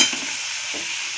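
Potatoes and boiled eggs being stirred and roasted in masala in a pan, a soft steady sizzle with light scraping of the spoon, close and alone without talk.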